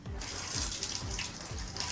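Water drips steadily from a tap into a ladle, a soft repeated drip roughly every half second over a constant rushing hiss of running water, close and alone with no voices.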